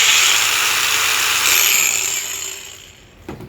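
A cordless brushless angle grinder with three speeds running at full speed, a loud, high, steady whine close by that gradually winds down at the end, with no talk over it.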